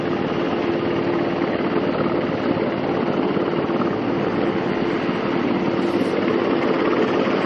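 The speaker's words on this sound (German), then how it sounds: "wie der Helikopter von der US Air Force landet" A US Air Force helicopter comes in to land in Zurich, its engine and rotor producing a steady, loud, close roar that holds unbroken for the whole stretch with no voices over it.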